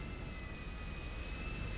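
Steady broadband airplane engine roar from GTA V, a continuous even drone with a faint high whine, filling the whole moment with no pauses and no voices.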